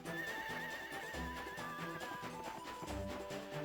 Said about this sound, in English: we have a neighing horse as well as hooves clopping